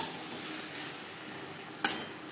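Potatoes stirred with spices in a pan for a pangas fish curry, a low steady sizzle with one sharp metallic scrape of the spoon against the pan near the end, close by with no voices.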